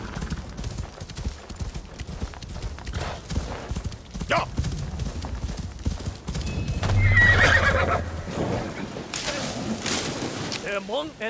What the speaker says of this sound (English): Let's get on the horse then.